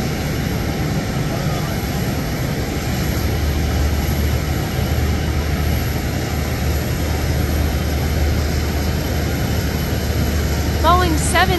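An All Nippon Airways Boeing 787 jet takes off with a loud, continuous engine roar that stays steady and powerful throughout, along with a faint hum.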